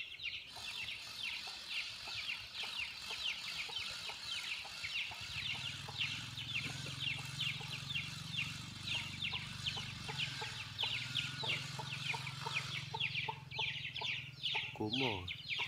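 Farmyard chickens, some of them sick, cluck repeatedly in a busy overlapping chorus close by, with a steady low hum entering midway and a brief higher squawk near the end.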